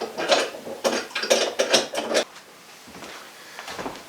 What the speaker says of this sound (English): I found this little wrench here, and we'll tighten that